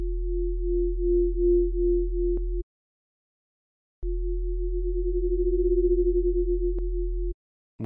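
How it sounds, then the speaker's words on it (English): Two steady, hollow synth tones play from Serum, with oscillator A detuned to phase-cancel against oscillator B. Each tone pulses and wobbles slowly as the waves cancel, separated by a short silence. "Now let's attune oscillator A so it phase cancels with B like this."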